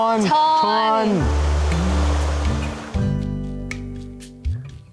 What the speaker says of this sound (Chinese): 溪水声潺潺流过耳边